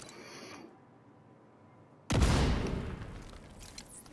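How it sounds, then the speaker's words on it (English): Grenade thrown in a video game: a quiet lull, then a sudden loud blast followed by dense crackling gunfire that slowly fades. "Throw a grenade."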